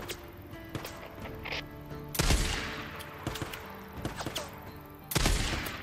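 Gunfire in the video game Days Gone, with scattered sharp shots and short bursts, some louder cracks standing out over a quieter background.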